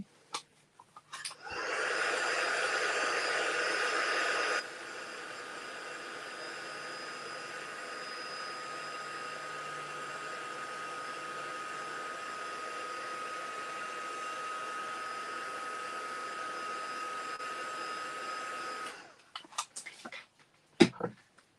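A hair dryer dries a freshly washed paint brush in a crafting session, a steady close whir that starts loud, drops to a lower setting after a few seconds, and runs alone for about seventeen seconds before cutting off.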